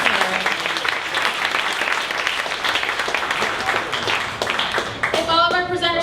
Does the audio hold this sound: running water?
no